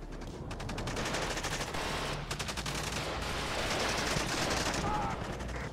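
Dense gunfire pours from buildings in the WARNO strategy game, a loud continuous crackle of rapid machine-gun bursts and rifle shots layered over battle noise, with a commentator talking throughout.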